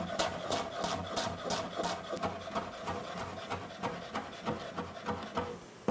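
Sharp knife slicing a bundle of fresh parsley into fine strips on a cutting board, a quick steady series of crisp cuts repeating close up with no talking.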